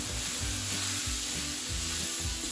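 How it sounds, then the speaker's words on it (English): Sweet potato sauce seasoned with chili powder and salt, stirred in a pan with a continuous dense sizzle and rhythmic scraping strokes repeating about every half second, no talk. "I will go ahead and give it a little stir."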